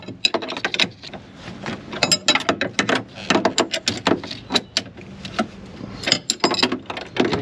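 A spanner works on a bolt of a wrecked Ferrari 430 Scuderia under rebuild, giving irregular metallic clicks and ratcheting clatter in quick uneven bursts, close by and without talk.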